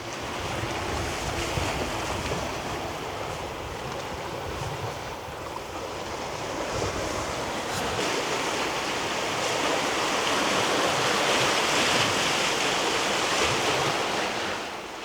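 Sea waves breaking on a Hiiumaa beach in winter, a constant roaring surf with swelling and receding surges and buffeting wind across the microphone, no voices.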